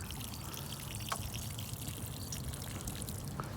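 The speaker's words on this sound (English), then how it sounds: "It's a little hard to water under here" Water pours and trickles steadily onto garden plants as they get a watering with an Epsom salt solution, a continuous close, soft splashing with a few brief drips.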